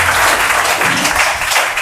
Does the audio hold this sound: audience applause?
yes